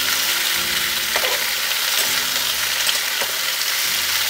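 Sliced ridge gourd fries over medium-low flame, a loud close sizzle with periodic spatula scrapes against the pan and a low steady hum beneath.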